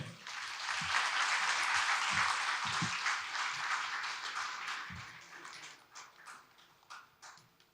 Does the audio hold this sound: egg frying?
no